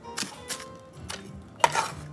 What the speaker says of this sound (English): Chopping up all my good old veggies.